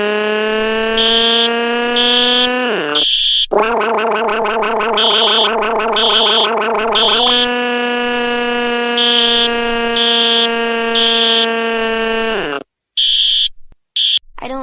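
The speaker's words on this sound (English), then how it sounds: "Please, the fire alarm is very noisy." A fire alarm in an animated cartoon, a loud, harsh electronic buzzing tone that holds steady, warbles in the middle, then drops away and cuts off in short bursts near the end, with no talking over it.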